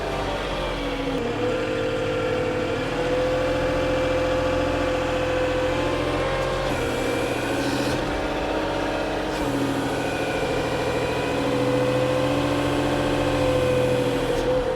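A Kubota KTH4815-2 telehandler engine drones steadily while driving, a close mid-to-low rumble that holds level throughout with slight shifts in pitch as the load changes.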